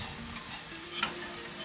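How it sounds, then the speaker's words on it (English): A whisk works Parmesan into heating milk with soft scraping and light taps against the pot over a low simmering hiss, brief and fairly quiet, with no talking. "so I'm just going to whisk in the Parmesan"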